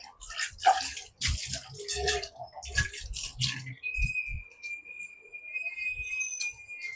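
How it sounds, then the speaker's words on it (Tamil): Water from a tap splashes and gushes in uneven bursts, then settles into a thin steady trickle with a faint high whistle, close by. "ஒரு வழியா தண்ணி வந்துருச்சு."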